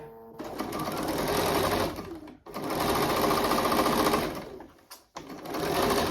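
A sewing machine stitches a seam with about a half-inch allowance through outer fabric and wadding, running loud and close in steady bursts, with brief pauses where the stitching stops and restarts.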